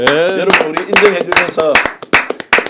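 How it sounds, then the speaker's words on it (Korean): Three people on a broadcast talk show clap their hands together, a run of sharp, irregular claps heard close up alongside a speaking voice. "우리 3명이 박수를 합니다."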